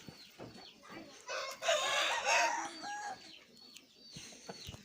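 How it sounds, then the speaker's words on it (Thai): A lure chicken, a rooster, crows loudly and clucks up close, with a drawn-out crow in the middle and softer clucks around it. "เนี่ยไก่ล่อละ"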